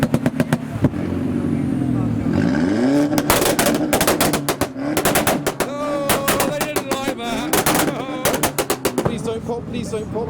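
An Audi S4 revving hard at a big car meet, its exhaust throwing sharp pops and bangs with flames, rapid crackling bursts in a dense series over a loud engine drone, with people talking nearby.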